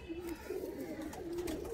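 Pigeons in a loft give soft, low cooing calls, two or three drawn-out coos rising and falling at a moderate distance against a quiet background.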